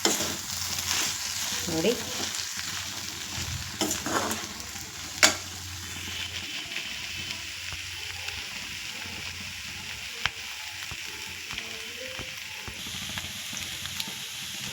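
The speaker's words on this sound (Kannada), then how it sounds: "ಬೆಂಡೆಕಾಯಿ ಬೆಂದಿದೆ. ಸ್ವಲ್ಪ ನಾವು ಮಿಕ್ಸ್ ಮಾಡೋಣ." Okra fries in a pan and is stirred with a spoon, giving a soft steady sizzle with scraping and clinking strokes and a sharp knock or two, while a voice speaks briefly.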